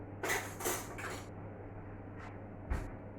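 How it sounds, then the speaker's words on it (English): Pork meatballs stirred in a pan over very low heat: a few quick scraping and clinking strokes of a utensil against the pan, fairly faint, in a quiet kitchen. "So we'll just give it a bit of a stir."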